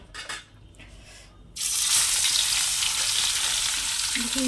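Fish pieces dropped into hot oil, a loud, steady sizzle that bursts in suddenly after a quieter start and keeps hissing close up, with no voices.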